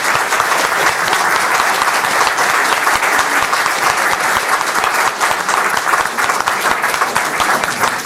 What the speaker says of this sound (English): I'd like a round of applause for all of our candidates